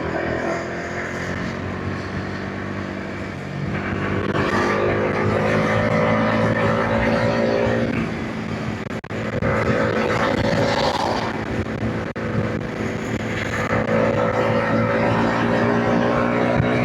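A Bajaj Dominar 400 motorcycle engine runs with a steady, loud hum that rises in revs and drops back again over many seconds, with some talk under it.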